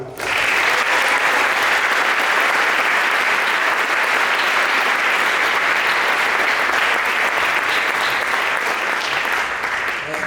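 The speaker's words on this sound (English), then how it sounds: "Round of applause for Mr. Bolak." An audience at a school winter and spring sports awards ceremony applauds continuously, a dense, even wash of clapping that stays loud and steady for about ten seconds with no talking.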